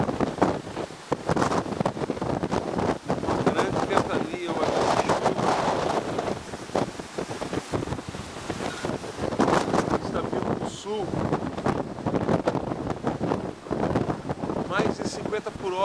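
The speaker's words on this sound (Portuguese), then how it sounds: "Esse é um vento muito forte que está chegando." Very strong cyclone wind at Itanhaém, São Paulo, Brazil, gusting near 100 km/h, roars loudly and continuously against the microphone with buffeting rumble throughout, while a voice talks over it.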